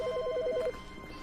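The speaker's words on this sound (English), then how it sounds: "there's a phone ring" A telephone rings in the video game The Stanley Parable, a rapid warbling electronic trill repeated for about half a second before cutting off, clear against a faint hum.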